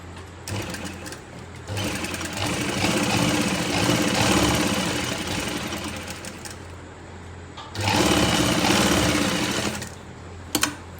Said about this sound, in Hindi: सबसे पहले हम इसका आसन सिलाई करेंगे।